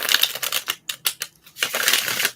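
Playing cards shuffled during a calm tarot reading, a run of soft crisp riffling bursts with brief pauses between them, close and quiet, no talking.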